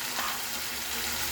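Tomato and turmeric frying in a pan for Bengali katla fish kalia, giving a dense, steady sizzle with faint stirring underneath, close and continuous.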